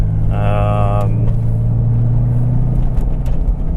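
A turbocharged BMW Z3 M Coupe idles while warming up, a steady low engine rumble running throughout, with a brief tonal whine layered on top early on.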